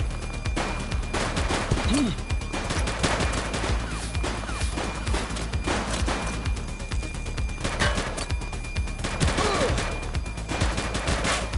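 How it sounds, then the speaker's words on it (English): Gunfire in the police video game The Precinct comes as dense, loud bursts of rapid shots and crackling fusillades over a steady game soundscape, with occasional shouted voices mixed in. "Shots fired!"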